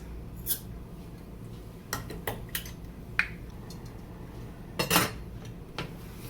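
More dry rice going into a pot for a boiled rice-water hair rinse, heard as faint scattered clinks and short grainy rattles against the pot, with a slightly longer rustling pour near the end.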